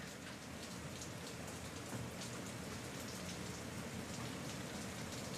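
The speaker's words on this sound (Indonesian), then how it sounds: "Seneng ya, lihat hujan gini." Rain falling in a constant, even wash of drops, a continuous soft hiss with no breaks or voices over it.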